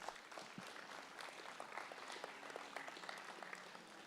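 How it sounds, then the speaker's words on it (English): Applause for kids in the show ring at a junior breeding heifer show at the Nebraska State Fair: steady, moderately distant clapping from a crowd that continues throughout at a fairly even level. "That applause going for these kids in the ring over here."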